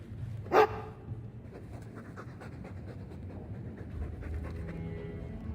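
A Mabari war dog from Dragon Age 2 pants in quick, rhythmic breaths after one sharp bark at the start, close and steady under a faint background bed.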